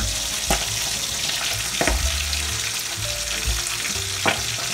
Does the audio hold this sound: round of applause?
no